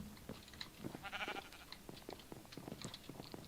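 A sheep in the video game Minecraft bleats faintly amid quiet game sounds, with a short wavering cry near the middle and light clicks and thuds around it.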